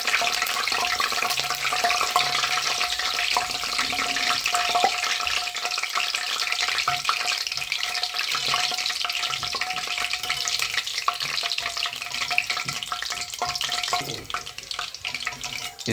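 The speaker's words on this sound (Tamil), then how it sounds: "கருவேப்பிலையை வந்து போட்டு வறுத்து எடுத்துக்கலாம்" Curry leaves frying in hot oil for chicken pakoda give a loud, steady sizzle with crackling throughout, and no one speaks.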